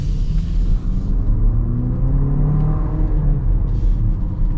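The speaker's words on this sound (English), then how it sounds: "Try to get another little acceleration with this peaky engine." A 2025 Nissan Murano SV engine accelerating with a peaky powertrain, a steady loud rumble with rising tones as it pulls, heard from inside the car with no talking.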